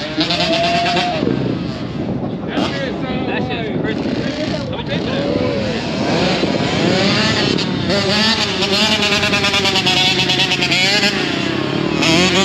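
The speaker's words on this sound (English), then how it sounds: "Yo, I ain't gonna lie, that bike sound good." A 2007 Honda CR85 Big Wheel dirt bike engine revs loudly and continuously nearby, its pitch rising and falling through repeated throttle blips with a buzzy two-stroke tone, while people chatter over it.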